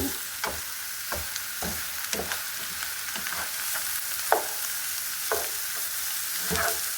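Cauliflower frying in a pan, with steady hissing sizzle and repeated scraping stirs at irregular intervals, close and moderately loud with no talking.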